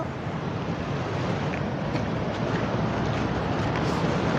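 Raw water from a reservoir rushing through the filtration stage of the Singareni thermal power plant, a steady, loud broadband rushing that holds evenly throughout without pauses.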